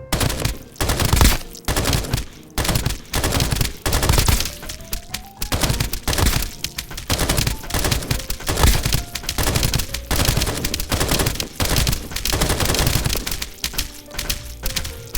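An elemental energy gun fires in the video game Escape from Duckov: dense, loud bursts of rapid shots with heavy thumps, repeating almost continuously, alongside a fiery crackling effect.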